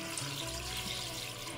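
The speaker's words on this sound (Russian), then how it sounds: "Заливаем это все холодной водой." Cold tap water runs into a multicooker bowl holding raw pasta, a continuous close splashing pour that shifts in tone as the bowl fills.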